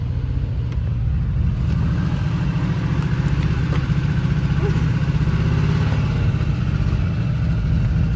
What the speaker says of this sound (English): We are footing the throttle a little bit.